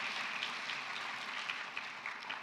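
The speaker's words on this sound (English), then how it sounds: "Can we give another round of applause?" Steady applause from a crowd gathered at a school town hall, a continuous dense wash of clapping that holds at an even level for the whole stretch with no voices above it.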